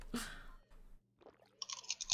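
Close, quiet crunching and chewing of food, several crisp bites and grinding chews in irregular bursts with short pauses, heard alone without talk.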